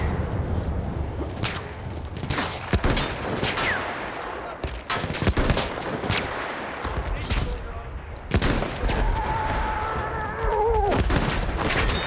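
Bombs falling and exploding in the video game Battlefield 1, a dense barrage of loud blasts and sharp cracks with whooshing debris, near and continuous, with shouting voices in the mix.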